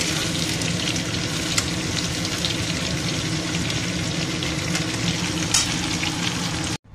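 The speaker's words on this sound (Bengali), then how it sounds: "এদিকে পটলটা ভাজা হচ্ছে" Pointed gourd (potol) frying in a pan in a home kitchen gives a steady, dense sizzle that holds at an even level throughout and then cuts off abruptly at the end.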